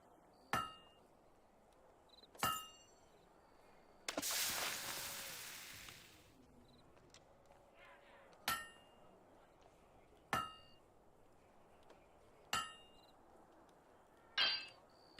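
A hammer strikes a blade at a forge in the Fable II video game, sharp metallic clinks ringing out one at a time every couple of seconds, with a brief hissing burst partway through.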